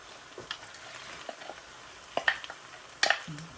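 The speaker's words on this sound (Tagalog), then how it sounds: "ilagay na natin yung munggo" Soaked mung beans tipped into a hot pan and stirred, giving a few scattered scraping and rattling clatters with brief sizzles, moderately close, with no talking.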